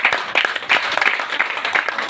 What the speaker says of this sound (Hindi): एक बार उसके लिए भी जोरदार तालियां बजाइए।